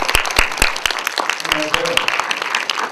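A short burst of audience applause at a post-screening talk for the 2000 film Joint Security Area, scattered claps with a few loud near hand claps, while someone talks over it.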